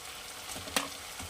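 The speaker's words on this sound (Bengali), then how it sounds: "আলুগুলো দিয়ে একটু সাঁতলাবো।" Fried potatoes added to a pan and sautéed for a Bengali snakehead fish curry (shoal macher rasa), giving a soft steady sizzle with one brief louder clatter midway, close and quiet with no talk.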